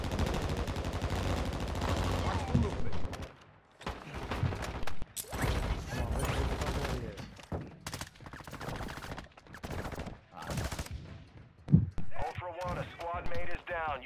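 Video game firefight in a denied area, with bursts of automatic gunfire and single shots cracking close and loud, repeated through the stretch, mixed with crashes and radio voices speaking over the shooting.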